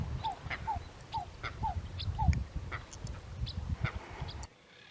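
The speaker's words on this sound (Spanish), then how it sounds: "Entre ellas había un grupo de patos cuchara." Red shoveler ducks calling from a lagoon, a series of about five short nasal quacks at a steady rhythm, moderately near, over a low rumbling outdoor background that cuts off abruptly at the end.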